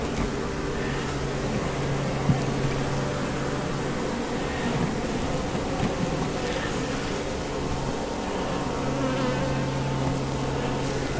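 A dense, steady drone of honeybees buzzing close by at a small mating nuc hive, continuous and fairly loud with no pauses.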